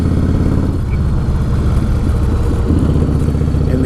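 A 1996 Harley-Davidson Softail engine rumbles steadily and loudly while riding on the road, a continuous low throbbing with mechanical clatter that holds an even pitch throughout.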